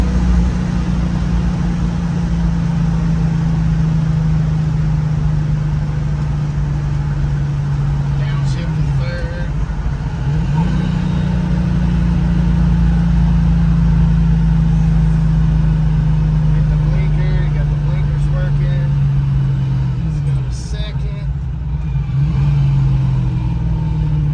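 Interior of a 1967 Shelby GT350 four-speed gaining speed toward 70 mph in fourth gear: a continuous heavy engine drone and road roar, the pitch dipping briefly twice as the throttle eases, with a voice speaking over it.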